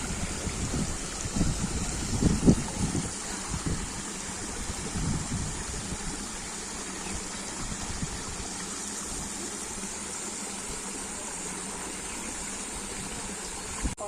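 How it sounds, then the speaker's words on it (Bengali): Rainwater running through a village toward a nearby river after rain, a steady broadband rush of flowing water that holds even throughout, with some louder splashing and gurgling in the first few seconds. "এই পানিগুলো নদীর দিকে যাচ্ছে"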